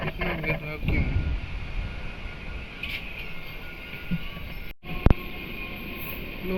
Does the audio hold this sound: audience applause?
no